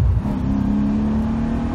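A 1982 Porsche 928 accelerates hard. Its engine note swells with a loud, close, rising roar as the throttle opens.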